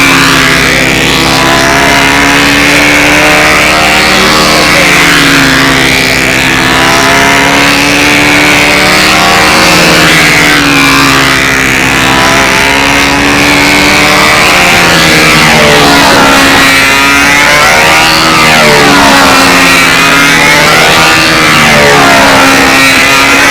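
Loud, sustained drone of a control-line model airplane engine with a PA muffler circling at a national contest, its pitch rising and falling repeatedly as the plane swings around the circle, with no talk.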